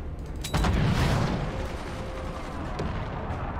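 A ship-mounted weapon fires in the naval strategy game Forts, one booming blast followed by a long rumbling tail that slowly fades, alone and fairly loud.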